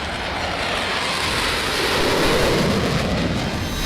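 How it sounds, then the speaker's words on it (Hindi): A fighter jet flies over the Purvanchal Expressway with a loud, sustained roar that swells slightly toward the middle and holds steady without any talking. "जहां लड़ाकू विमान उड़ान भी भर सकेंगे"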